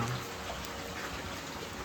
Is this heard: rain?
yes